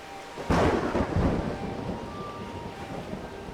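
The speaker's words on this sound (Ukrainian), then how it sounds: "Ну, вітер сильний, бачиш шторм. Шторм у нас іде." A thunderstorm in the video game Old Man's Journey, with a sudden heavy thunderclap rolling into a low rumble over a bed of wind and rain, loud and close, with no voices.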